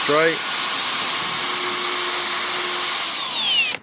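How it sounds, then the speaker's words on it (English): A power drill bores a hole through a panel on a Nissan S12 Silvia: the motor spins up, holds a steady whine close and loud for a few seconds, then winds down. "First hole is getting drilled."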